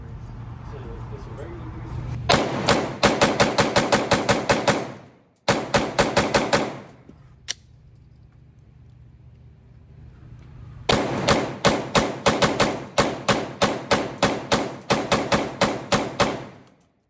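Rapid, loud strings of gunfire from a Glock fitted with a Radian Ramjet and Afterburner, sharp shots in fast, evenly spaced bursts with a pause between, heard alongside talk.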